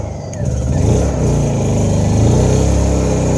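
A small engine that has been coaxed into starting, heard close and loud as it speeds up while a heat gun warms it, with a steady whirring note that rises and fluctuates.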